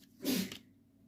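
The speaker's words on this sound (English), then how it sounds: "Let me just say, bless you, to my wife as she sneezed from the other room." A single faint sneeze from another room, a short muffled burst that fades quickly into quiet.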